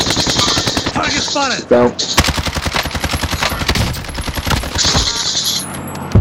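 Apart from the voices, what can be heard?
gunfire in Call of Duty Warzone video game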